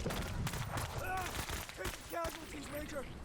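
Gunfire in the video game Menace, scattered shots and bursts mixed with chirping game effects, moderately loud, with a voice talking over part of it.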